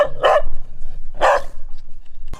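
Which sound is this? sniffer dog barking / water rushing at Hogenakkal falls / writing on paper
sniffer dog barking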